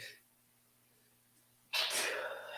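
A single sharp sneeze bursts out near the microphone after a stretch of quiet room tone, loud and breathy with a trailing exhale.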